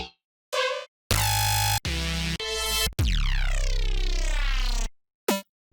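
Bright electronic synth shot samples fire one after another, a handful of loud, buzzy stabs of varying length, including one long sweeping tone that bends in pitch, with short silences between hits.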